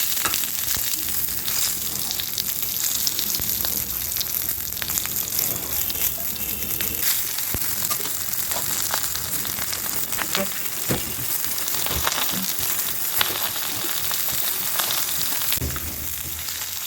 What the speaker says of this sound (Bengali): স্লো হিটে এপিট ওপিট করে ভালো করে ভেজে নেব অনেকক্ষণ ধরে